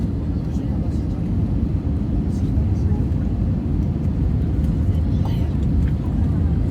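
Airbus A320 airliner on final approach with flaps down, a steady loud rumble of engines and airflow inside the cabin, with faint voices talking briefly in the background.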